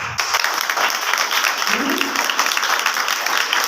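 Children in a gathered audience clap loudly for their fathers, a thick, steady burst of applause that stays strong throughout, with a brief voice rising faintly in the middle.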